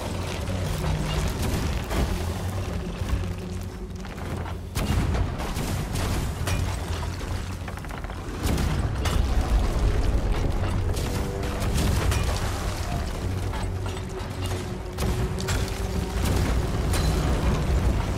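Ship cannons in the video game Sea of Thieves boom and burst again and again over a steady, loud rumble, with heavy blasts packed close together.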